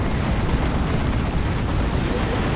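Cyclone missile launcher barrage in Dawn of War 2, a dense, continuous roar of overlapping explosions and booms, steady and loud with no clear gaps between the detonations.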